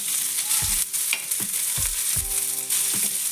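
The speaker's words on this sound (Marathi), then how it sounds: "त्यासाठी हलक्या हाताने गुलाबी होईपर्यंत असा हलक्या हाताने भाजून घ्यायचा" Onion and coriander masala fries gently in a pan for fish curry, a loud, continuous sizzle close by, punctuated by several dull spatula thumps and scrapes against the pan, with no talking.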